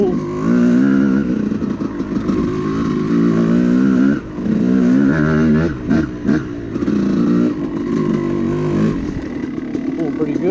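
A 2006 Yamaha YZ250 two-stroke dirt bike with an aftermarket Apex head pulls hard in second gear, its loud raspy engine rising and falling through several throttle surges, close to the rider, with a voice speaking over it at times.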